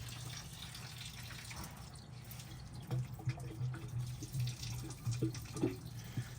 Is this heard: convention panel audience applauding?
no